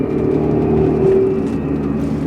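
Renault Megane IV Trophy R, a small engine with a big turbo, pulling hard at full throttle in second gear, its steady loud engine drone filling the cabin with a slight rise and no voices.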